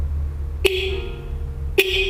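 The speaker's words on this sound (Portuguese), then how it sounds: "É buzina de moto mesmo, do jeito que deve ser" A motorcycle horn wired to a 12-volt bench power supply set around 10 volts sounds two loud, sharp blasts, the first short and the second longer, against a low background hum.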